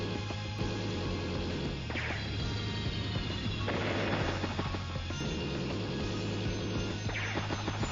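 An artillery attack hitting a gunboat in the Advance Wars: Days of Ruin video game, with dense, loud game sound effects of booming blasts and a continuous rumbling battle din, repeating over several seconds.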